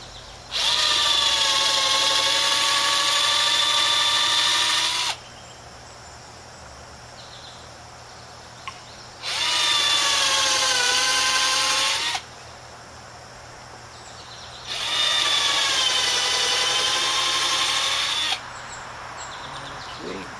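A power drill drives screws into a rotted wooden picnic table in three sustained, loud whining bursts of a few seconds each, separated by quiet pauses with a faint background hum.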